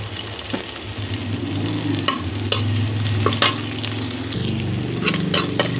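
Red onion sautéing in a pan while a tilapia steak dish is cooked, a steady close sizzle with stirring scrapes and clicks throughout, heard alone without talk.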